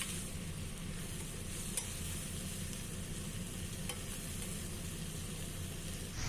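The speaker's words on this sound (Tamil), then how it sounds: "நல்லா வதக்கி விட்டுட்டு ஒரு 2 நிமிஷம் நல்லா வதங்கட்டும்" Chopped tomatoes with salt sizzle steadily in a pan for an egg curry, a constant moderate hiss with two faint clicks from stirring.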